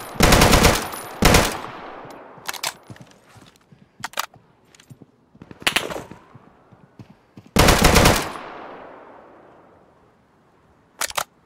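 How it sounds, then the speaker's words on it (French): Loud gunfire bursts in the survival shooter Deadside, several automatic volleys and single cracks spaced irregularly across the stretch, with ringing decay between shots and no talking. "ça me tire dessus encore"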